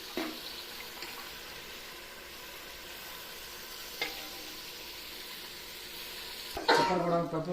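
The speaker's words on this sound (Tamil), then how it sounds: "பொடியை போட்டு நன்றாக வதக்கவும் பெப்பரை போடவும் கறியை போட்டு நன்றாக வதக்கவும்" Country chicken curry sautéing in a pan with spice powder and pepper, a faint sizzle and stirring throughout, a clatter near the middle and a louder scrape and splash at the end.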